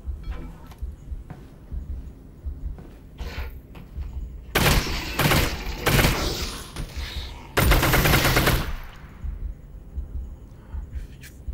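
Bursts of video game gunfire in Half-Life Alyx, scattered single shots giving way to two sustained loud volleys of rapid fire, each lasting a couple of seconds, with quieter thuds and movement between them.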